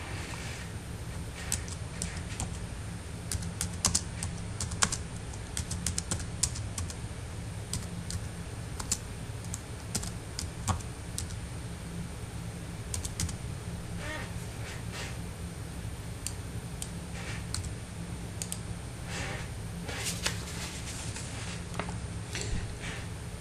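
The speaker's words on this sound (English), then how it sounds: "You can now type new information in the merged cell." Soft, steady typing on a computer keyboard, scattered key clicks ticking along continuously over a faint background hum, close but quiet.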